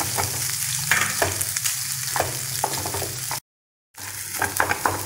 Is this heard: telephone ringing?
no